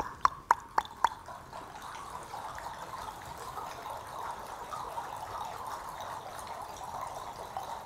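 An audience imitates the clucking of a river with their mouths: a few sharp, drip-like clicks at the start, then a sustained, soft, watery wash of many overlapping voices at moderate level.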